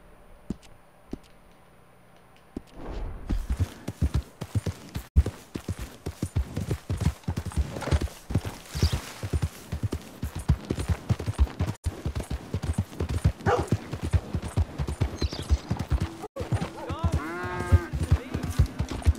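Horse hoofbeats in Red Dead Redemption 2, starting after a quiet opening and continuing as a steady rhythmic clopping trot, with someone talking casually over the hooves and a brief horse whinny near the end.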